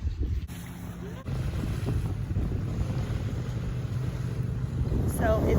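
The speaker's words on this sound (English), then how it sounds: "I don't know if you guys can hear the wind, but it's gotten a little bit windy." Wind gusts by the water on a chilly evening, a continuous rushing roar buffeting the microphone with low rumble, steady throughout with a faint sharp sound near the end.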